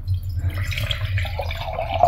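Well water mixed with a little sugar trickles and splashes softly into a small glass jar used as a vase, a quiet continuous pour close by.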